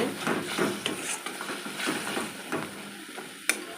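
Spice masala sautéed with water in a pan for vegetable khichuri, a soft, steady sizzle with scraping stirs and a sharp clink near the end.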